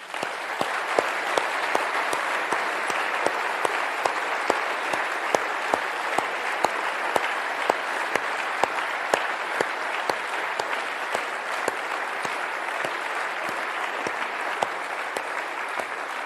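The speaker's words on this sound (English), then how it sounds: "a big round of applause" Long, sustained applause from a large audience at a formal event in Switzerland, a dense, even roar of clapping with crisp individual claps standing out, steady and unbroken throughout.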